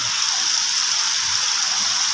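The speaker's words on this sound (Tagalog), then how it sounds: "Ayan, ulan guys." Rain pours during a tropical storm, a dense, steady rush of falling water that stays loud and even throughout, with no one talking.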